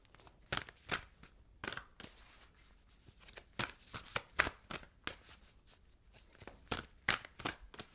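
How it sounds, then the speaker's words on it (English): Oracle cards are shuffled by hand, producing quiet, irregular riffling and snapping sounds close by, repeating in short bursts with pauses between. "Give them a good shuffle."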